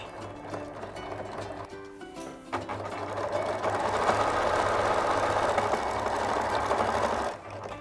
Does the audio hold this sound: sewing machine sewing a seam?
yes